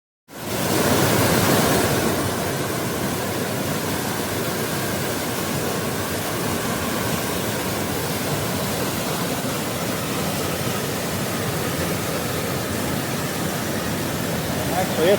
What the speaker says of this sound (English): this waterfall here that we're standing on top of goes way down